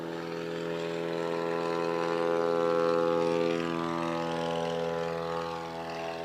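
A small airplane makes a STOL competition takeoff in a light headwind, its propeller engine roaring steadily with rich harmonic drone, rising slightly in the middle and holding loud throughout, no voices.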